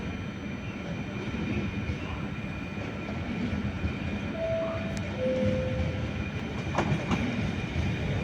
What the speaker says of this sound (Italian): Il treno regionale 17084 Trenitalia, proveniente da Vigo e diretto a Venezia Santa Lucia delle ore 16:21, è in arrivo al binario 2.